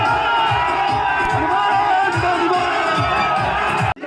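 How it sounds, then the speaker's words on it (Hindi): A large crowd at Hanuman Beniwal's political rally in a village near Sardarshahar: a constant loud roar of thousands of voices with shouts and cheers, steady throughout before a brief cut near the end. "देखिए सभा स्थल पर हजारों की भीड़ है"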